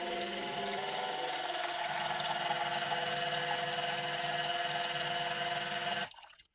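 Nespresso Essenza Mini coffee machine dispensing hot water: a steady, moderately quiet pump hum and liquid rush running for about six seconds, then cutting off abruptly.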